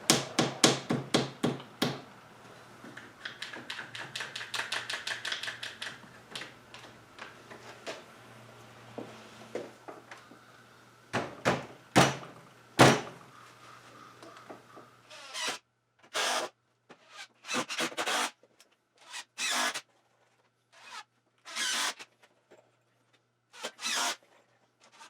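Clamps are fitted onto freshly glued wood for a chicken brooder, giving a close series of quick ratcheting clicks, taps and knocks in bursts separated by pauses.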